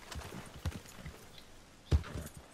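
Horse hooves walking in Red Dead Redemption 2, a few soft, uneven clip-clop thuds close by, with one heavier hoof strike standing out near the end.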